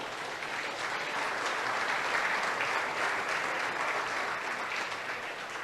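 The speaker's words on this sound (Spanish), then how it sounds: "Dale un aplauso al Rey." A church congregation claps together in steady, sustained applause, dense and even from start to finish with no voices standing out.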